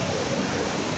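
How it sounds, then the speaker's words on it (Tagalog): Small mini waterfall pouring in a steady, broad rushing wash of water, close and continuous with no voices. "Mini falls."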